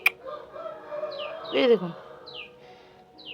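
A female pigeon recovering from illness gives a few soft, low calls at close range, with brief chirps and a short spoken phrase alongside.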